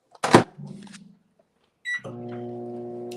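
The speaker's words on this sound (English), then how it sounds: "I hear the microwave going." A microwave oven starts up: a sharp clack and short rattle, a brief beep, then a steady electric hum that keeps running to the end.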